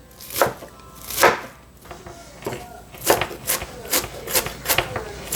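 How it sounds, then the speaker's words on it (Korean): A kitchen knife chops vegetables, including cabbage, while filling is prepared for Korean zucchini and mushroom pancakes. About a dozen crisp, close strikes start spaced apart and then quicken into a steadier rhythm, with no talking. "야채를 썰어 볼게요."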